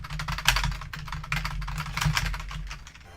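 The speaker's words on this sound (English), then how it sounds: "this is why I hammer the keyboard again" Rapid, hard keystrokes pound a computer keyboard during arcade gameplay on an emulator, a close, busy run of clicks with a few louder hits.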